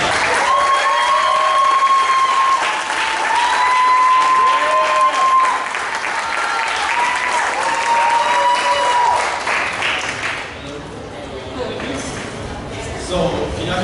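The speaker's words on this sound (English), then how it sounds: "So please give a warm round of applause to Pedro Mariano Gonzalez." Loud audience applause with whistles and cheering greets a speaker at a cultural resource center event at Mount San Antonio College, then tapers off toward the end.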